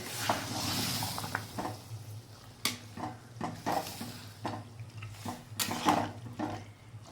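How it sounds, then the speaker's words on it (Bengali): Chickpeas and peas for dhaba-style ghugni are stir-fried in a pan, with repeated spatula scrapes and clinks over a soft sizzle and no talking. "এবার আমি এটা আবার কষিয়ে নেব ভালো করে"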